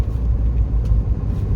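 A red Ford Sport KA car with its engine running as it drives off, a steady low rumble close by with no pauses and no voices.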